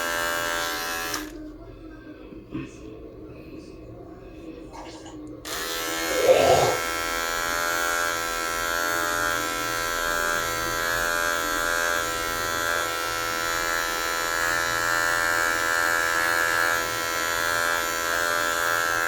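Electric clippers grooming the belly and armpits of an 8-year-old Shih Tzu hum in a steady, close buzz that runs almost the whole time, with a brief handling bump and some voices underneath.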